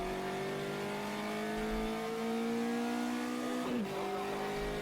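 A light Volkswagen Golf hot car in a Brazilian touring car classics racing game, its engine revving steadily higher through one gear before a quick shift drops the pitch, loud and continuous.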